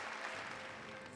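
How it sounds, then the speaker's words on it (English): A crowd applauds in the video game Hollow Knight, a dense, steady wash of clapping filling the whole short moment without pause. "Hear how the crowd adores you"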